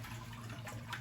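Water running and splashing as part of the water is drawn out of a home fish tank during cleaning, a steady close trickling flow with no one speaking.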